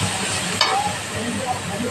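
Spiced paste of green chilli, garlic and onion hits a hot pan for a Bengali tengra fish curry, giving a steady close sizzle with one sharp hiss burst early, under faint background noise.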